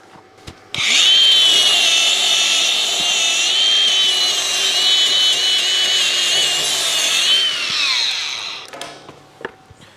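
An Arccaptain stick welder burns a 1/8 inch 6010 rod at about 100 amps, slightly too cold. A loud, steady hissing buzz starts abruptly, holds for about seven seconds, then cuts off, with no talking.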